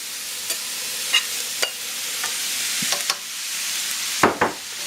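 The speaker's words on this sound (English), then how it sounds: "Now, my rice goes back in. This is going to be a full pan." Cooked rice tipped back into a full pan of pork fried rice, giving a soft sizzle with scattered scraping and stirring knocks, a sharper clatter near the end, and no voices.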